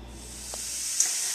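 Steam hissing steadily from a pot of kitchari cooking on the stove, a continuous, moderately loud airy hiss with a faint click partway through.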